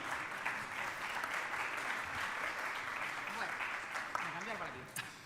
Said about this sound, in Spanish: podemos seguir en el aplauso